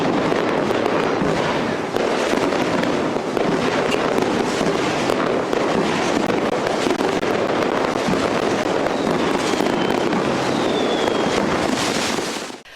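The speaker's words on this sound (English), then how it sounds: "the moment the clock strikes midnight, fireworks explode across the sky" Dense, continuous crackling and popping of many fireworks bursting at once over a Chinese city at midnight on New Year's Eve, a loud sustained barrage with a few whistling streaks near the end.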